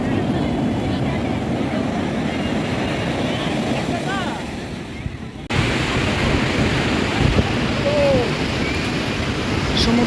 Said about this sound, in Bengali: দেখো বড় বড় ঢেউ আসছে, পুরী সমুদ্র এনজয় করছি